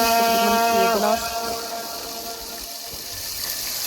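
Water poured from a glass into a pan of golden fried onions, a brief sizzling gush and splash in the first second that settles into a softer bubbling simmer.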